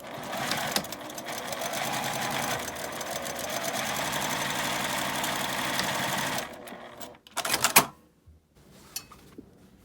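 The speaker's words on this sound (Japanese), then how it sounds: "そこのところを1センチの縫い代で縫います。" Domestic sewing machine stitching a 1 cm seam on lining fabric for a lined drawstring bag, a loud rapid continuous whirring run that stops abruptly, followed by a few short clattering bursts and quieter handling noises.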